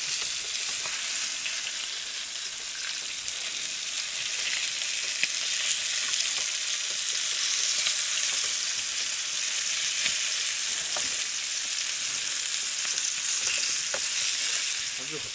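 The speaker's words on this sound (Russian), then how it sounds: "ты хотел рыбу жарить?" Fish fries in a pan at a camp in the taiga, with a steady, dense crackling sizzle that keeps up evenly for about fifteen seconds. It is heard close, with no voices over it.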